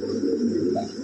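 A pair of Black Lahori pigeons coos in a low, steady, throaty rumble, close and continuous through a short moment.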